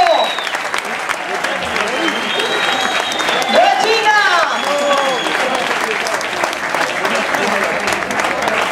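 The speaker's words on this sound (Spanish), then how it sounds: "El aplauso se suene más fuerte." A crowd applauds loudly as players are introduced at a Celta legends versus football stars match, the clapping sustained under an announcer and scattered whistles and cheers.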